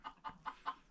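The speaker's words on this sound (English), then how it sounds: "So the type of chickens that we raise in Jamaica, guys, is the same chicken that you'd eat in like KFC." Farm chickens clucking in the Jamaican countryside: four quick, evenly spaced clucks in under a second, fairly faint and close, with no talk over them.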